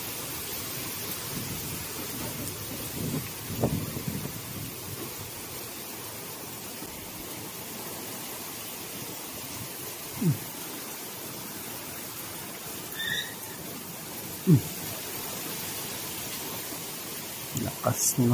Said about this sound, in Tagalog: Lumakas na po yung ulan mga bay.